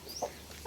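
A chicken clucks a few short times nearby, quick soft calls with a brief pause between them.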